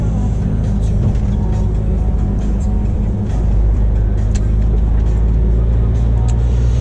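Steady low road rumble of a car driving along, heard from inside the cabin, a continuous engine and tyre drone with no clear passing events.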